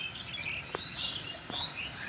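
Pigeons in a coop giving a few short calls and chirps, faint against a quiet background, with two or three brief sharper notes standing out.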